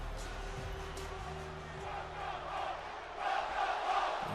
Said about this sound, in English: The crowd is hyped for this.